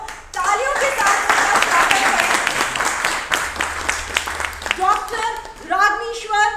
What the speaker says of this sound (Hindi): तो तालियों के साथ